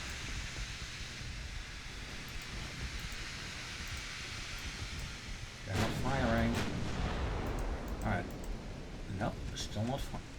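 Naval guns fire in the warship battle game Ultimate Admiral Dreadnoughts, a few heavy booms and rumbles rising over a constant noisy battle backdrop, with a voice present.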